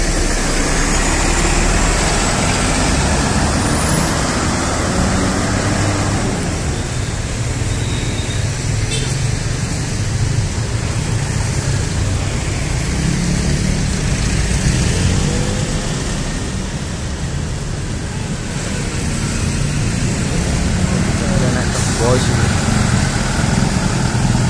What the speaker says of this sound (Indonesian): Wah ini bus pariwisata Subur Jaya Makmur.